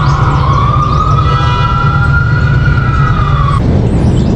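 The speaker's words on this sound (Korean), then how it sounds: "사이렌 소리야 또 사이렌 소리" Emergency vehicle siren on a Manhattan street, a loud, close wailing tone held steady over heavy traffic rumble, cutting off near the end as the street noise continues.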